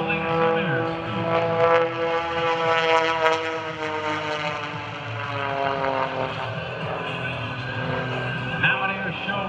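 Aerobatic propeller airplane powered by an IO-540 engine performing at an airshow, a loud steady droning roar with strong harmonic whine that swells and shifts as the plane maneuvers, with a commentator talking over it.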